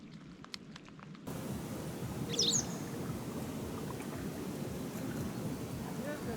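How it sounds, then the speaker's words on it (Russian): Outdoors in steady rain at a fishing spot, a small bird gives one brief, high chirp partway through, faint above the constant patter. "Вон птичку сними."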